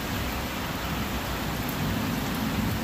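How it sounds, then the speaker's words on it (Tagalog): Heavy monsoon rain pours down steadily in General Trias City, Philippines, a dense continuous hiss with no pauses, close and loud. "Lakas pa rin ang ulan."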